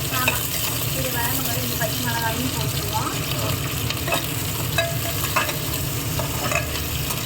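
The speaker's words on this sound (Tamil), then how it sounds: "லைட்டாக வதங்கணும் வெங்காயம் ஆமாம் அப்புறமா பச்சை மிளகாய் போட்டு" Onion and green chili sautéing in a pan for a vegetable biryani, with a steady close sizzle running throughout and repeated scraping stir strokes of a spatula.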